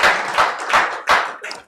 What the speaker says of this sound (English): I believe we can have another round of applause for her.